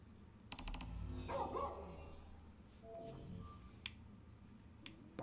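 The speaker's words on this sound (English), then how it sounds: "Barking." A dog barks in the video game Final Fantasy XV, a few short barks over a low game soundscape with soft ambient hum and scattered effects, fairly quiet overall.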